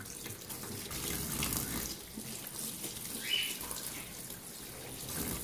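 Running tap water splashes steadily as corn husks are washed in a sink, a continuous close hiss of flowing water with no talking.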